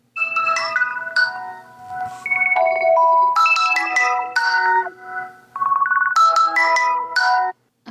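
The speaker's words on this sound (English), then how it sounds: "I am pretty sure that is the default ringtone that came with my phone." A default Samsung Galaxy Android phone ringtone plays loud and close: a bright melodic chime pattern that repeats, with no voices.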